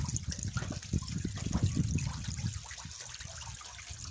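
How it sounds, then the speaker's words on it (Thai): Running water pours steadily into a cement pond used for raising climbing perch, a continuous broadband wash with low gurgling throughout, fairly close and unbroken. "ก็ต้องเปิดน้ำเอาอยู่"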